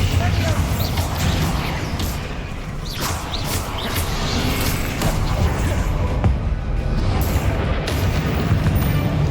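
Spell blasts and explosions from Hogwarts Legacy combat, dense layered booms and crashes rolling almost continuously over a busy game soundtrack, with several sharper bursts cutting through.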